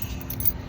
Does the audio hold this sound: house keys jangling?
yes